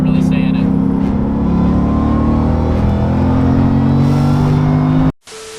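Whipple supercharged Mustang GT with a whine mod driving through Tijuana traffic, a steady engine drone with a sustained mechanical whine layered on top, loud and continuous before cutting off abruptly near the end.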